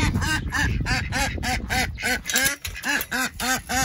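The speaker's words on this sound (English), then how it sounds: "we got to let the ducks out. They're mad now." Ducks quack repeatedly at close range, a rapid, steady series of loud nasal calls that overlap at first and then come in distinct bursts.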